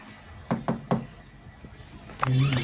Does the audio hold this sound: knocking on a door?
yes